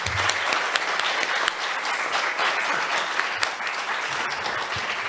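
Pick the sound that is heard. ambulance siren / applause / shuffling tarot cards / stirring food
applause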